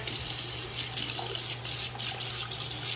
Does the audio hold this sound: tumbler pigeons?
no